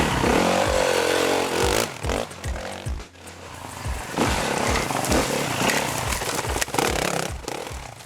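A 2013 Yamaha WR450F dirt bike being ridden, its engine loud and close, revving and dropping off through gear changes, with a brief lull midway before the throttle opens again.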